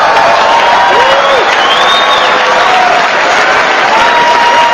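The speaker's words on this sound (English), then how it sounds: "Give them a round of applause." Loud, sustained applause and scattered cheering from a large audience at a press association dinner fill the whole stretch without a break.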